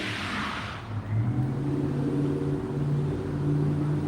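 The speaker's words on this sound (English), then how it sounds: "Every person in a truck now thinks they got to spin out when they get out of their driveway to get on the street" A truck revving and spinning out as it pulls from a driveway onto the street: a rushing hiss at first, then a loud engine drone whose tones climb and hold, fairly close.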